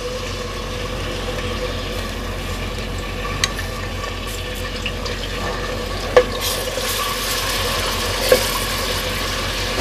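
Garlic ginger paste frying in ghee for beef qorma, a steady dense sizzle with a couple of sharp clinks from a stirring spoon, close and even, no talking.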